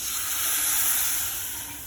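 A loud, steady hiss of hot oil tempering poured into kadhi sizzling fills the whole stretch, fading slightly toward the end.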